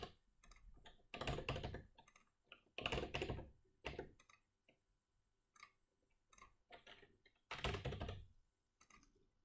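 Bursts of fast keystrokes on a computer keyboard while entering text during web development work, coming in several separate clusters with short pauses between them, close but fairly quiet, with no talking.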